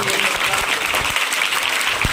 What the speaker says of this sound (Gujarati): સૌપ્રથમ આપણે 5-7 મિત્રો માટે એકવાર જોરદાર તાળીઓ